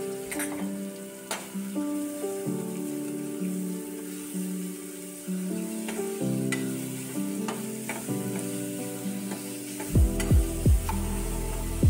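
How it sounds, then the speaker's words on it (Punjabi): Cumin and tempering spices roasting in ghee for a pumpkin curry, a continuous sizzle with frequent spoon scrapes and clinks, louder stirring strokes near the end. "ਇਹਦੇ ਵਿੱਚ ਆਪਾਂ ਹੁਣ ਪਾ ਦਿੰਦੇ ਸਾਰਾ ਤੜਕੇ ਦਾ ਸਮਾਨ, ਅਤੇ ਆਪਾਂ ਇਹਨੂੰ ਭੁੰਨਦੇ ਹਾਂ ਜੀ ਸਾਰੇ ਸਮਾਨ ਨੂੰ"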